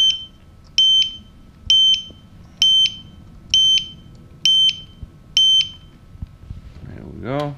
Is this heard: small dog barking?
no